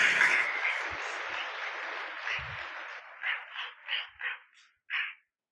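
A church congregation claps in praise, starting as dense, loud applause that thins out into a few separate bursts of clapping near the end.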